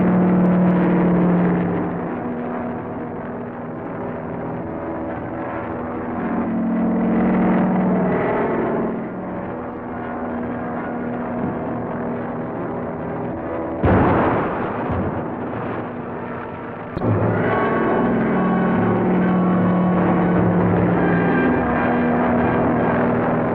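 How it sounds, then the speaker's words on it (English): Bombs fall from an aircraft and explode in a 1941 film serial sound effect: a long droning roar swells and fades, a sharp blast bursts in midway, and a heavy sustained rumble follows. "I can start dropping these bombs."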